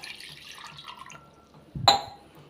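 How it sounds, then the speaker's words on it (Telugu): Water is poured into a bowl to rinse it after cabbage is taken out: quiet dripping, then one short close splash near the end. "మళ్ళీ బౌల్ ఒకసారి వాష్ చేసుకుని ఒక గ్లాస్ ఆఫ్ వాటర్"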